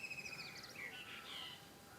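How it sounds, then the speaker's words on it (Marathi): Birds chirp and tweet outdoors, heard faintly from inside a room in short repeated calls over a low steady background hum. "पक्ष्यांचा बघा बाहेर किती आवाज येतोय."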